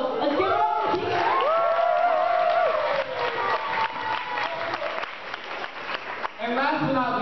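Audience at an education event applauding and cheering for teachers, a broad wash of clapping with whoops and shouts rising above it, lively and fairly close, with voices mixed in.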